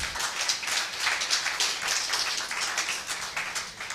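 Applause for the co-host at the launch of the Lagos State Demographic Dividend Roadmap: a modest audience clapping steadily for about four seconds at moderate volume, no voices over it.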